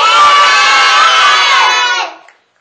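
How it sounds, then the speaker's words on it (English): A loud group of children cheers and shouts together for about two seconds, a sustained excited roar that then drops away quickly into silence. "give Caden a big cheer, everybody"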